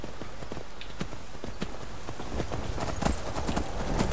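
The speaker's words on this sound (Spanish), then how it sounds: "Se me hace tan raro ir encima de un caballo." Hooves clip-clop at a steady riding pace as a horse carries its rider in Skyrim, rhythmic thuds close and clear over a soft game ambience.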